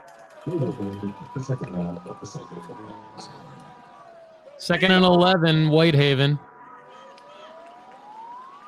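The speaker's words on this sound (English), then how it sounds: "A lot of sirens going off around the field." Sirens wail in the background at a high school football game, rising and falling steadily, while someone talks over them and a loud brassy burst from the band briefly swells midway.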